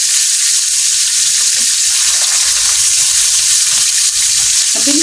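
Saluyot (jute leaves) frying in a pan, a loud, continuous hissing sizzle that stays steady throughout with faint clatter underneath, no talk.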